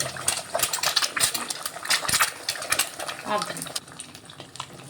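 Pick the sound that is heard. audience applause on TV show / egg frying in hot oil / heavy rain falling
egg frying in hot oil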